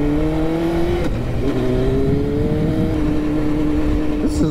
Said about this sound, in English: My bike is running nice and cool.